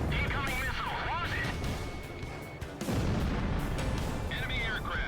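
Missile explosions and heavy booms from aerial combat in Ace Combat 0, loud and dense throughout, with game radio chatter and warning tones layered over the blasts.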